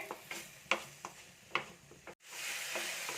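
Tomatoes and onions fry in a pan for a chickpea curry, stirred with a spoon that scrapes and taps a few times over a soft sizzle before the hiss swells briefly louder.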